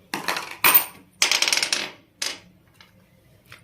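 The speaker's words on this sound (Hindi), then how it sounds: "फिर 3 कॉइन डालेंगे" Coins dropped one at a time onto a hard surface during a kitty party game: several separate metallic clinks with short gaps between them, the middle impacts a quick rattling cluster, then quiet with a faint tap near the end.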